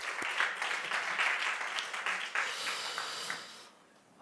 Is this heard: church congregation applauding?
yes